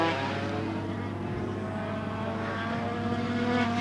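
Engine drone of 250cc Grand Prix racing motorcycles at a Phillip Island support race in 1992, a steady continuous roar that holds at even loudness without clear separate passes.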